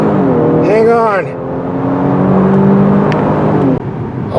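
A 2024 Genesis G70 with the 3.3T turbo V6 accelerating hard, its engine drone climbing and holding steady under a loud voice exclaiming over it.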